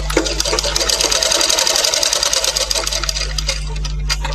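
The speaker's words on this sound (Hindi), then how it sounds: "ये आधा पार्ट यहाँ से हम सिलाई कर लेते हैं पहले" A sewing machine stitches fabric at a tailoring lesson, its needle chattering in a fast, steady rhythm close up and loud, easing slightly toward the end with a low motor hum underneath.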